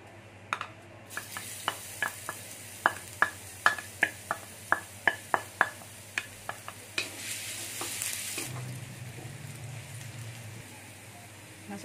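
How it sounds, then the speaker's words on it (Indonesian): Green beans and garlic stir-frying in a pan, with a steady sizzle under a string of sharp metallic stirring scrapes and clacks, followed by a brief louder hiss near the end. "Di video kali ini saya mau tumis sayur kacang buncis pakai bawang putih saja."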